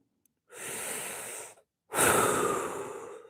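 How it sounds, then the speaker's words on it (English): Deep, slow breaths taken during a fascia-focused movement practice: one long, soft inhale, a short pause, then a fuller and louder exhale, close and unaccompanied by talk. "Breathing into your belly button."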